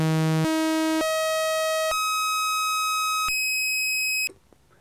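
Waldorf Blofeld synthesizer oscillator holding a steady tone that jumps upward in octave steps, each step a clean sustained pitch higher than the last, then cutting off near the end.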